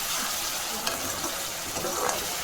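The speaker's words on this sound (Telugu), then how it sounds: "ఇవి కొంచెం ఇంకా ఫ్రై అవ్వాలి." Prawns and eggs frying in a pan for a prawn egg curry with ginger garlic paste, a steady close hiss with brief stirring scrapes and no voice over it.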